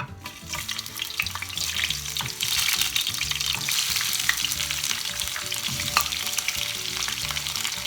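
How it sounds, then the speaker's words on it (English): Chopped onion fries in hot oil in a pan, giving a continuous crackling sizzle with scattered sharp pops, moderately close and without talk. "Going in with our oil, we want to fry our onion."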